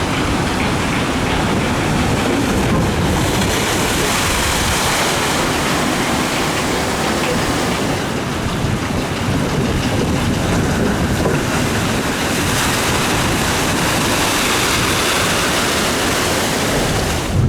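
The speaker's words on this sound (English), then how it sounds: "Let's go for a ride in the sunshine on the Log Flume" Water of a log flume ride at Great Yarmouth Pleasure Beach rushes and splashes in a loud, steady roar that stays unbroken from start to finish, with no voices.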